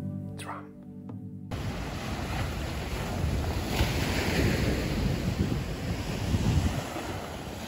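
A cardboard pizza box ocean drum tilted so its loose filling rolls across the inside, making a surging wash like surf that swells and recedes in close, continuous waves after a brief quiet opening.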